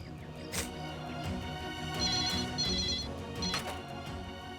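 A telephone rings in short repeated trills over a dull background hum, faint and somewhat distant.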